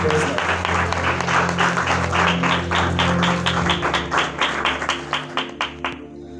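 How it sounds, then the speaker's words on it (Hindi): A church congregation claps loudly in praise of Jesus Christ, first as dense, sustained applause, then thinning to scattered individual claps before stopping. "आइए जोरदार तालियां खुदा यीशु मसीह के लिए चाहते हैं।"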